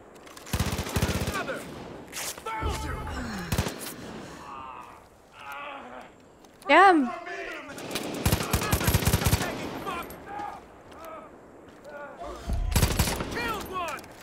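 Gunfire bursts in the video game Far Cry 5, sharp repeated volleys and rapid shots scattered through the clip, mixed with other game sounds and a player's voice reacting.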